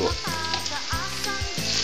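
Onions sauté in a pan over garlic for dinuguan, a loud, close, continuous sizzle broken by a few short scraping strokes of stirring.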